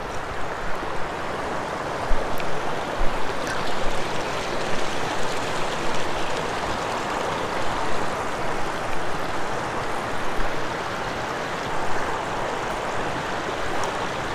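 Steady broadband rush of a river flowing over rocks in the middle of a forest stream, continuous and close, with no voices throughout.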